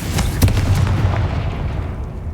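Confringo fire spell explosions from the Hogwarts Legacy video game: a dense run of booming blasts with sharp cracks near the start, rumbling continuously and loudly throughout.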